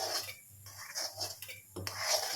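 Spoon scraping and rubbing ABC malt mixture against a pan at home, a soft rasping, scraping sound in repeated strokes, close and moderately loud, with no talking.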